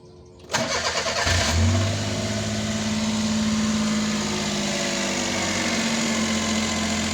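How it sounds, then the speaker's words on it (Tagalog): A Suzuki Multicab DA63T's K6A engine, just fitted with a new valve cover gasket, cranks and catches, then settles into a steady, smooth idle that hums on evenly for several seconds. "Tahimik pa ng makina, no?"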